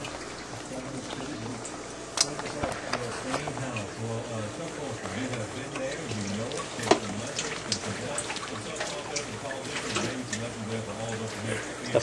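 Water splashes and pours into a fish tank nearby with irregular drips and sloshes, and a voice seems to murmur in the background.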